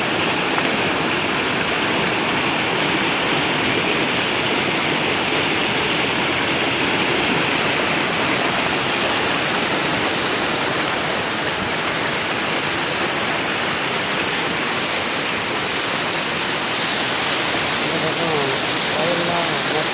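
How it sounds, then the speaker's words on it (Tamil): Water rushes steadily through an irrigation canal, a loud continuous gushing flow with a constant churning texture and no pauses. "கால்வாயில் தண்ணி வந்துருச்சு"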